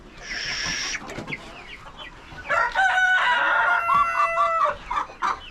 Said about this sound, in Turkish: Ayam cemani çok dikkat çeken bir horoz.